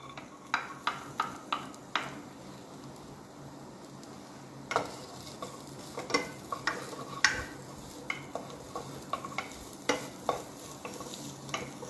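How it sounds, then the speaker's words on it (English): Chopped onions, half a cup, go into a hot pan and start frying, with a soft steady sizzle under sharp intermittent clicks and taps of a spoon stirring against the pan. "Half a cup of onions I am adding."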